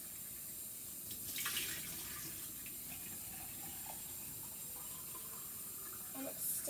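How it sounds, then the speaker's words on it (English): Baby bottle being rinsed under a running kitchen tap, a steady soft hiss of flowing water with faint splashes and clinks, fairly quiet and continuous throughout. "I need to wash it again"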